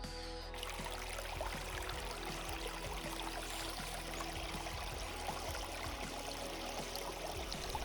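Water streaming across a road through small villages on a border route via Maredumilli, a constant close rushing and trickling wash that holds steady throughout without any talk.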